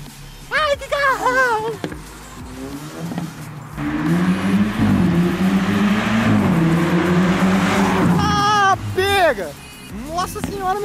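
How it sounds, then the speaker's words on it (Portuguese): A Jaguar XJ drives up with a loud, sustained engine roar that builds as it approaches, while excited voices shout and talk over it at the start and end. "Oh, outro Jaguar? Esse aí é o XJ!"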